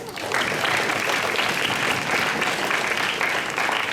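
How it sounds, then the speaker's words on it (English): An audience at a high school English debate final applauds steadily after the debate, sustained dense clapping from a crowd throughout. "Thanking them for such a great debate with a big round of applause."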